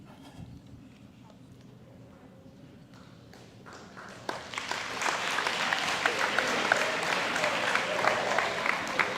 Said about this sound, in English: I heard the little clap